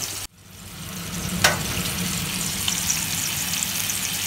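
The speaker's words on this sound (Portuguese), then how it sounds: "já estou aqui fritando" Beans frying in a pan, a steady close sizzle that starts abruptly and holds at an even level, with one brief sharper crackle early on.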